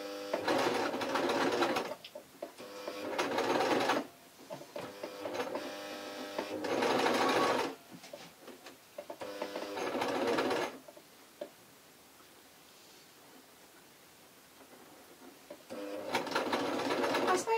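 A sewing machine stitches a T-shirt in a series of short, close bursts of rapid stitching with brief pauses between, followed by a quieter stretch before a final burst.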